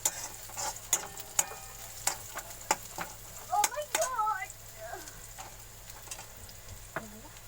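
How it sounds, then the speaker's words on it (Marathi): A chicken curry base frying until brown crackles in a pan with irregular sharp ticks and pops over a low sizzle, close and fairly quiet, with no speech. "हे ते ब्राउन फ्राय होत आहे"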